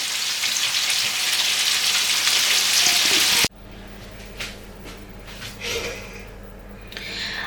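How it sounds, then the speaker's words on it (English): Loud, steady hiss of chicken frying in a hot pan, which suddenly drops to a quieter sizzle with light stirring and clinks. "I am going to be frying this bit of chicken"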